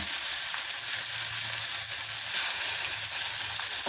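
Eggs and Spam frying in a pan give a loud, steady crackling sizzle with continuous fine spitting that fills the whole stretch, close up and with no talk.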